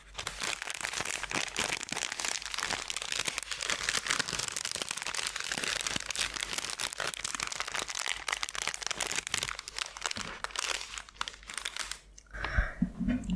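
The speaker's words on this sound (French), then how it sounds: "J'ai donc du papier cuisson." Sheets of baking parchment paper crumpled close to the microphone in an ASMR-style kitchen setting, a continuous dense crinkling and crackling that runs for over ten seconds before a brief pause and a few final rustles.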